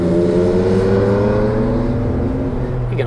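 An Alfa Romeo GTV V6 engine revs and pulls hard, a loud, steady rising tone that holds for a few seconds with no talk over it.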